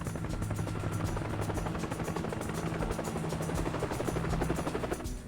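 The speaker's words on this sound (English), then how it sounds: "We can hear a helicopter." An approaching helicopter's rapid rotor thumping fills the scene, steady and fairly loud, with a low droning engine hum underneath and no voices.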